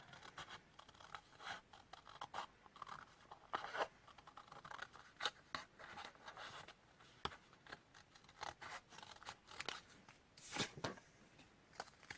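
Scissors cut out a paper shape for a Hishikazari decoration, giving a run of close, crisp snips and rustling paper crackles in an irregular rhythm with no talking.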